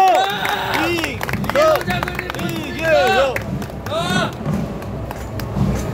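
A crowd at a political rally applauds a speaker, with dense, steady clapping mixed with cheering and chanting voices for several seconds, fairly loud and close.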